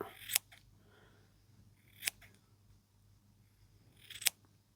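Scissors make three crisp separate snips, spaced about two seconds apart, during a woodland advent calendar craft, close and clear against a quiet background.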